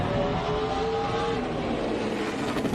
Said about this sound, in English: You heard the engine revving,